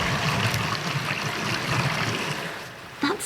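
Water sloshing and spraying inside a running dishwasher, a steady broadband wash with low churning, close and fairly loud throughout, with a brief bump near the end.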